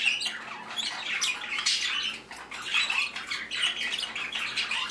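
Baby Bourke's parakeets squawk from inside their nest in a continuous, scratchy chorus of harsh begging calls, rising and falling in overlapping bursts, fairly close and without talk.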